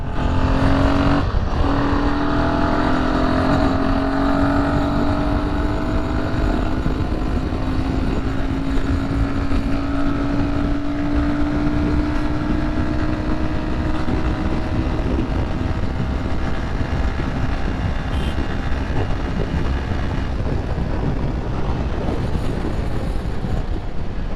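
A Royal Enfield Himalayan 452 motorcycle accelerates on the road with a loud, continuous engine drone whose pitch climbs steadily through the gear, under rushing wind.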